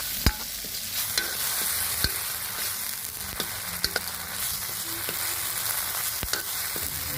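Ground spice masala with turmeric sizzles steadily in a pan for a desi-style chana dal and lauki dish, with sharp scrapes of a spoon stirring at irregular intervals. The frying is close, and no one speaks.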